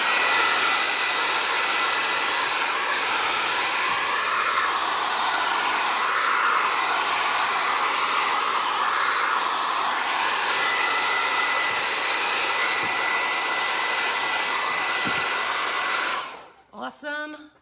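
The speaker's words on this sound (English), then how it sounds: "the blow dryer is a little noisy" A blow dryer drying resin art, loud continuous blowing hum close up with slight wavering, then switched off near the end as a voice begins speaking.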